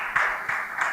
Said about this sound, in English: please keep clapping as he takes the stage